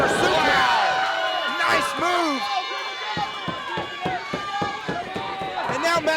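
A crowd at a live wrestling match cheers and shouts loudly, with whoops and hollers rising over thuds and slams from the ring, steady and close throughout.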